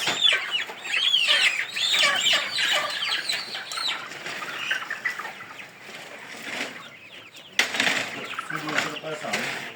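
Chickens and young chicks cluck and cheep together in a flock at a poultry seller's place, a busy steady chorus with occasional wing flapping, fairly close, under intermittent talk.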